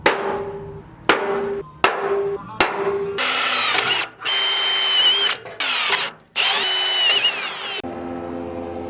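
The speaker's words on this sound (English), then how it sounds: "I pretty much drilled out the holes" A power drill bores holes into a Chevy Blazer frame: several short motor bursts start and stop, then longer whining drilling runs with pauses between, close and loud.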